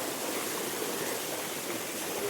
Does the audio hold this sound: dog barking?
no